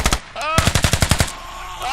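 Loud, close machine-gun fire in a close-quarters video game round on the Al Basrah map: a short burst, a brief gap, then a rapid string of about eight sharp shots.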